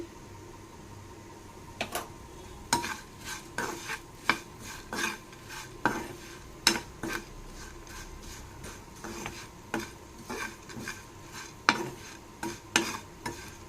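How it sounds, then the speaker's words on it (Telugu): Poha flakes fry with turmeric in about a teaspoon of oil in a pan, under a soft, steady sizzle. A spatula scrapes and knocks against the pan in a regular, close stirring rhythm. "ఇందులో ఇంకొంచెం నేను అటుకులు కూడా ఫ్రై చేసి కలుపుతాను తర్వాత దీనికి ఇంకొంచెం పసుపు వేసుకుంటున్నాను"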